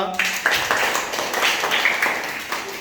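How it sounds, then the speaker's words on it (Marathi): First-grade schoolchildren in a village school classroom clap in a quick burst of uneven claps while voices speak over them. "चला टाळ्या वाजवा"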